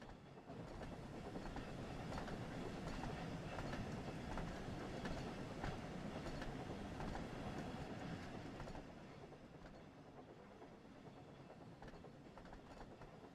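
A video game train rolls along rails with a steady rumble and faint clickety-clack, fairly quiet, easing to a softer level near the end, with no talking.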